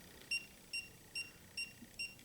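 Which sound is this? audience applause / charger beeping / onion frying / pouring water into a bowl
charger beeping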